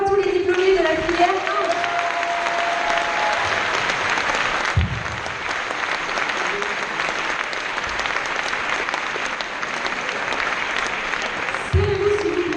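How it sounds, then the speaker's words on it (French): A ceremony audience applauds graduates at a diploma presentation, sustained dense clapping that fills the room, with a voice speaking briefly at the start and again near the end. "On peut applaudir une dernière fois tous les diplômés de la filière 1."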